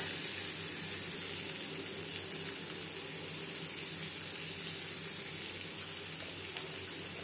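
Boiled, halved potatoes frying in a pan with salt and turmeric, giving a steady, even hiss of sizzling oil that stays constant throughout.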